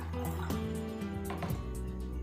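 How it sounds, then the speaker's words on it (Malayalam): Water is poured into a glass for a science-expo baking soda and vinegar demonstration, a continuous filling gurgle with a rising tone, close up and without talk. "കുറച്ച് വെള്ളം ഒഴിക്കാം."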